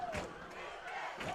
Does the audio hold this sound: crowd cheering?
yes